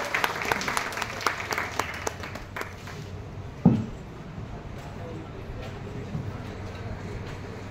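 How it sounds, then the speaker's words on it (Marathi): An audience at an award felicitation ceremony claps in a burst of applause that is strongest at first and then thins to scattered claps, with a single sharp thump midway and a speaking voice underneath. "सगळ्यांनी जोरात टाळ्या वाजवून त्यांचा"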